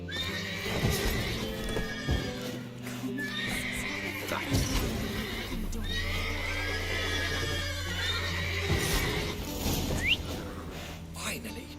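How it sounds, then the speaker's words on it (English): Several horses whinny and neigh in a stable scene from The Witcher 3: Wild Hunt, their calls rising over a steady low game ambience, with hoof clops and shuffling throughout. "Gotta calm all the horses before they wake the guards."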